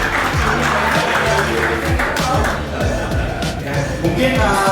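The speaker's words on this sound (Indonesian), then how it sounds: "Tepuk tangan sekali lagi dong yang paling meriah." Applause and cheering from the audience at a company anniversary celebration fill the space, loud and continuous, with music and voices mixed in underneath.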